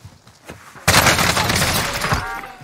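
Gunfire in Call of Duty Warzone: after a few soft thuds, a loud sudden burst of rapid close shots fires off, then trails into a sustained rattling barrage for about two seconds.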